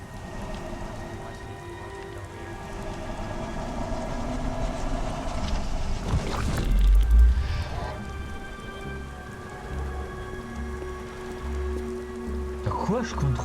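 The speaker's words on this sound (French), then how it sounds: "J'en ai marre de toute cette pluie." Steady rain in the video game Beyond: Two Souls patters continuously with a low rumbling background, briefly swelling with a deeper thud midway.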